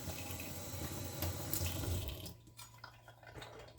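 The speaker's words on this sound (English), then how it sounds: "Washing off the stone. Washing off the knife" Tap water pours steadily over a sharpening stone and a knife being rinsed, a broad hiss for about two seconds that then cuts to a quieter trickle with faint drips and handling sounds.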